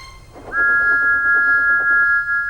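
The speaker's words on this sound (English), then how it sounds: "Thomas's whistle soon woke them up." A single sustained, steady steam locomotive whistle blows loudly and close, starting after a brief rumble.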